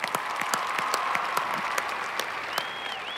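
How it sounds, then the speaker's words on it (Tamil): Audience applause rings out at a stage event after a young girl's performance, a steady bed of many hands clapping with a few sharper individual claps standing out, moderately close and continuous. "இவ்ளோ பேர் முன்னாடி நின்னு பேசுறதுக்கு ஒரு பெரிய கைத்தட்டல் கொடுத்தே ஆகணும் கண்டிப்பா"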